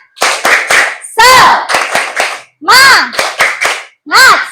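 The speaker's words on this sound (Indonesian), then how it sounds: "Pagi hari ini kita tepuk semangat dulu ya. 1, 2, 3. Tepuk semangat." Children in a classroom perform a rhythmic spirit clap, loud close claps falling in short patterned bursts between chanted group voices and pauses.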